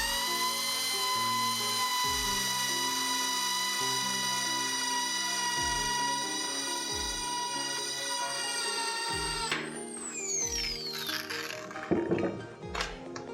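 A drill with a 6.5 mm bit bores holes for six-millimetre screws during a wide-format milling machine build, giving a steady high whine for several seconds before it shifts pitch and breaks into rougher clattering.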